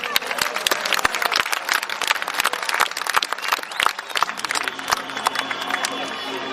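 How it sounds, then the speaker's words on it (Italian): An outdoor audience at an evening horse show in Santa Giusta, Sardinia, claps in a dense burst, the applause thinning into scattered claps as a steady tone and murmuring come in toward the end. "Un applauso a Teodoro Manca."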